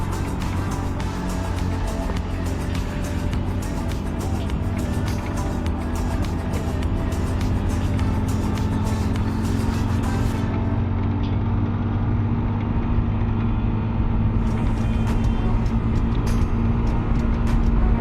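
Steady motorcycle road noise on Salisbury Plain, a constant engine drone mixed with wind rush that holds at full loudness for the whole stretch, close and unbroken.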